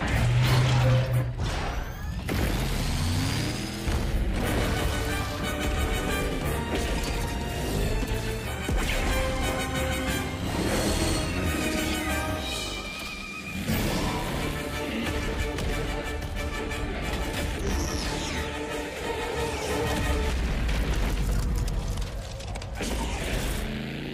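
A Brumak stomps through a Gears of War battle, its heavy booming footfalls mixed with loud crashes, metallic clanks and whooshes in dense, continuous game audio.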